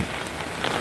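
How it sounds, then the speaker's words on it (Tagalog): Heavy rain pours onto a wet walkway in Hong Kong, a steady, dense hiss of drops with no break across the short stretch. "Lakas ng ulan."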